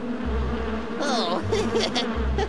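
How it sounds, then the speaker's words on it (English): Cartoon bees buzz loudly while circling around a logger, a close, continuous insect drone with wavering pitch as they swirl past, heard alone without speech. "Our bee friends are circling around Logger Vic!"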